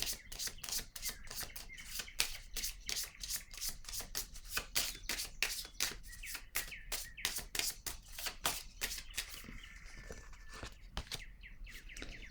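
Tarot cards are shuffled rapidly in close-up, a long run of crisp, rhythmic riffling flicks that slows and thins toward the end, quiet and without talk.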